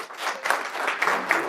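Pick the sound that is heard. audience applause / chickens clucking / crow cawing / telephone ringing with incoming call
audience applause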